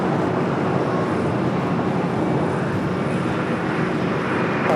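An airliner departing Los Angeles airport, its engines making a continuous loud rumbling roar that holds steady and uninterrupted, with no voices.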